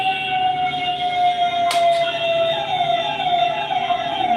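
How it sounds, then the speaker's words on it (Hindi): An ambulance siren wails continuously with a steady, sweeping tone, loud and fairly near, over rumbling traffic noise, shifting pitch as it moves past. "एम्बुलेंस जा रही है, फायर ब्रिगेड"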